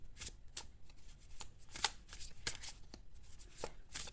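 Tarot cards being shuffled by hand in quick riffling bursts, close and fairly quiet, several rapid flicks over a few seconds with no speech.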